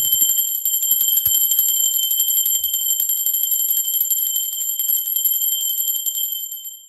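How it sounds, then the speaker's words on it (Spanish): A bell rings continuously for about six and a half seconds, a steady, bright, high-pitched metallic ring that holds at an even level and then fades at the end, with no talking. "¡Va campana!"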